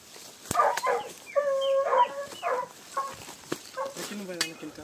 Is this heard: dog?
yes